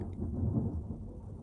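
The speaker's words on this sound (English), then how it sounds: "I'm fighting the thunder as well." Thunder during a storm, heard as a soft, low, steady rumble rolling in the distance over a short stretch with no other sounds standing out.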